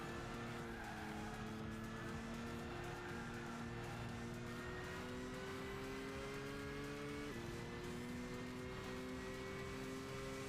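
Race car engine in Gran Turismo 6 hums at steady revs with tonal whine shifting up and down through gears, continuous and loud, with no speech.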